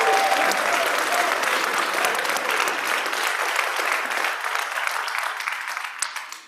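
Church congregation applauding auction volunteers, loud sustained clapping from a full room that holds steady, then thins and fades out at the end.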